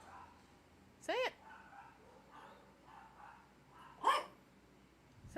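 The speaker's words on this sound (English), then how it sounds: "I hear them barking." Two short bursts of dog barking, faint and some distance away, rise out of a quiet street background several seconds apart.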